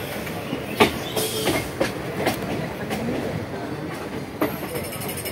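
A passenger train running on the tracks near Bolpur Shantiniketan, steady rumbling with irregular clacks and bangs of the wheels, loud and close throughout.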